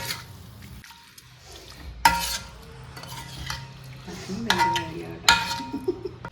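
Lemon pickle ingredients such as lemon, ginger, green chilli, curry leaves and garlic being stirred together in a bowl, giving soft wet scraping and a few sharper clinks against the vessel under low background noise.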